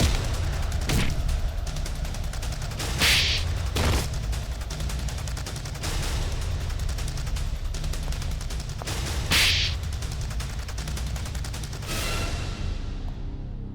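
Gunfire in a Hindi TV crime drama, with several sharp shots ringing out at intervals over a steady, loud background of dramatic noise.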